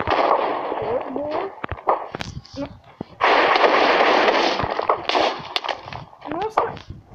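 The Minecraft Wither boss firing explosive skulls in a video game, with repeated sharp blasts and broad roaring bursts amid game effects, under excited Portuguese commentary from a player.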